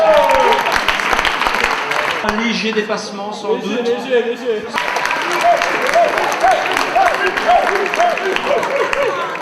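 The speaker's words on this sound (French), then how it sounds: "On applaudit le poète." Audience applause for a poet at the Slamons 2015 poetry slam in Mons, steady clapping throughout while someone speaks over it into a microphone.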